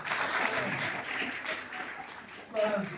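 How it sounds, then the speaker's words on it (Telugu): An audience at a devotional gathering for Sai Dharma Kshetra claps in a steady, dense round of applause that swells again near the end. "ఇంకోసారి చప్పట్లు కొట్టండి"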